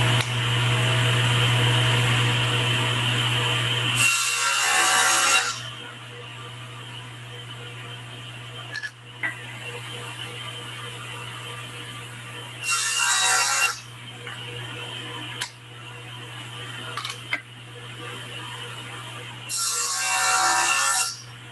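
A saw with blades set 3/8 of an inch cuts through wood in repeated short passes, loud bursts of rasping whine separated by quieter stretches of motor hum, close by and with no talking.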